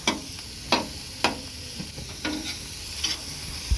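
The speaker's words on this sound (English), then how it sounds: "Let's keep turning this rice because this rice will burn." Fried rice being turned and scraped on a hibachi griddle, a steady frying sizzle broken by several sharp spatula clacks against the metal surface, close and fairly loud, with no voices.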